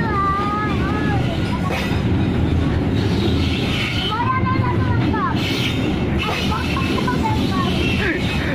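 A coal freight train rolls into track 2 at Cibinong, its steady rumble and rail noise continuous and loud, with squealing wheels and people talking close by.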